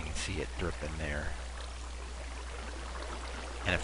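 Water runs and trickles in a flooded Minecraft Dungeon area, a continuous watery hiss that continues steadily after a voice speaks over its start.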